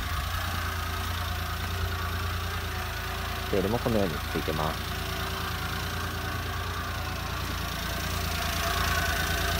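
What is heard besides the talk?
Honda Acty Attack engine idling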